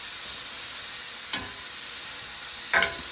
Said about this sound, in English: we're going to fry these up until they're